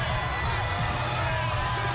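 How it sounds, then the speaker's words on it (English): A large street crowd cheers and shouts along the route of Tampa's Gasparilla Parade of Pirates in 2017, a steady dense roar of voices and whoops from many spectators. "you can see the crowd is so excited as the parade starts to make its way up"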